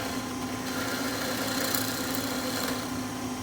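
A wood lathe spins steadily while a gouge turns a lace bobbin, giving a constant close motor hum with a faint scraping texture and no talk.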